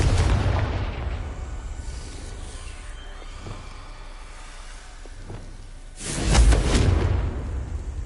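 Confringo spell in a Hogwarts video game blasting with a deep booming explosion near the end, after an opening low rumble and quieter rustling game ambience, loud and close with no talk.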